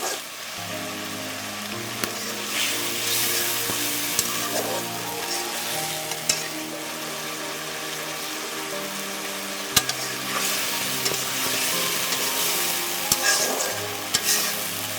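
Sweet pumpkin frying in mustard oil, a continuous close sizzle with occasional crackles and spoon scrapes, running under steady background music.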